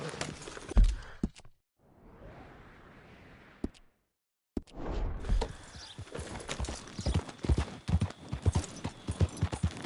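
Rapid clip-clop hoofbeats of a horse galloping in the video game Red Dead Redemption 2, loud and steady, breaking off briefly for a soft rustling pause before the galloping resumes and continues to the end.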